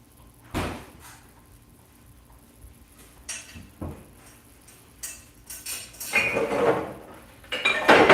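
Kitchen drawers being rummaged through while hunting for an ice pick: scattered clinks, clatters of utensils and knocks of drawers sliding and shutting, growing busier and louder toward the end, with no talking.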